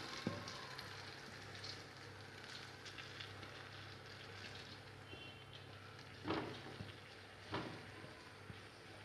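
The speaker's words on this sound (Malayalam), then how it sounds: "ചീനച്ചട്ടി ചൂടായിട്ടുണ്ട് അതിലേക്ക് ഈ ബട്ടർ ഇട്ട് കൊടുക്കുകയാണ്" Butter sizzles and crackles as it melts in a hot wok for making ghee, a constant frying hiss with a few sharper pops standing out.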